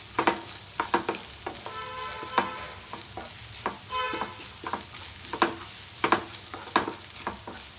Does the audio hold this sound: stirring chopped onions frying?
yes